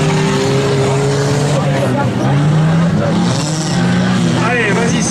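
Stock car racing engines rev and accelerate in a loud, continuous roar with rising pitch sweeps, close by amid crowd babble.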